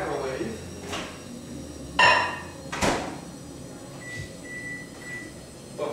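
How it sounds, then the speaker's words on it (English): A microwave oven is started to warm butter in a mug. Two sharp clunks of handling and the door come first, then three short, evenly spaced beeps, with some voice in the background. "put it in a microwave"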